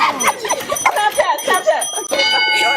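A bell rings out during a classroom quiz game, its bright ringing tones sounding near the end amid excited chatter from students.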